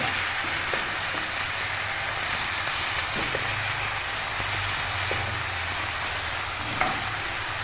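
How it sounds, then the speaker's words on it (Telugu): A capsicum egg omelette fries in an oily pan, giving a steady, close broadband sizzle that runs unbroken, with a few soft ticks of stirring and no voices. "ఇది కొద్దిగా ఫ్రై."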